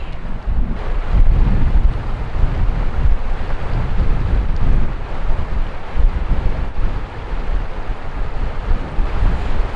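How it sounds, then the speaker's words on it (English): Strong wind roars steadily across the microphone beside a river during fly fishing, a dense, buffeting rumble that never lets up, with a hint of rushing water beneath and no talking. "it is windy as frick out here"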